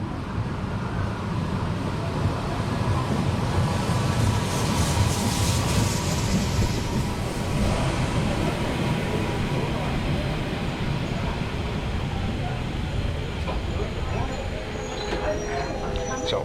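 A Harz narrow gauge heritage train pulls into Quedlinburg station, its loud continuous rumble and rolling wheels filling the air, with faint wheel squeal near the end and a voice talking underneath.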